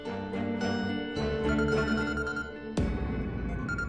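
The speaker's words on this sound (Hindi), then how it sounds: "रूहान का फोन आ गया" A phone rings indoors in a Hindi domestic drama scene, a sustained electronic ringtone with harmonic tones that shifts partway through, under a faint music bed and with no talking.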